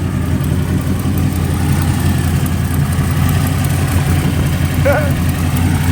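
A car engine fitted with a cheap bargain-bin turbo idles while warming up, giving a loud, steady low rumble with constant vibration and a faint chirp near the end.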